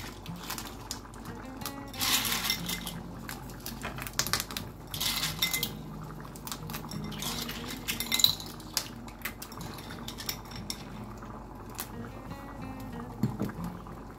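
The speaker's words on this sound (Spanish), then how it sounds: "Ahora es el momento de añadirle las almejas." Clams being added to a pan of simmering rice with clams and squid, a scattered run of hard shell clinks and clatters against metal over a low bubbling bed, close and intermittent.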